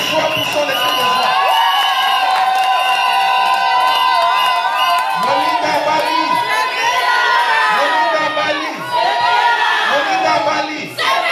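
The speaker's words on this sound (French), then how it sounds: "Poussons les cris de joie, poussons les cris de joie." Wedding guests at a celebration shout and cheer for joy, a loud, continuous crowd of many overlapping high voices whooping and calling, swelling in waves throughout with no pause.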